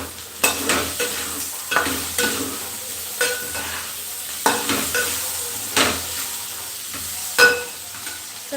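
Boiled taro roots frying in a hot pan while being stirred, with repeated scraping strokes and bright sizzling bursts at an irregular rhythm, close and moderately loud.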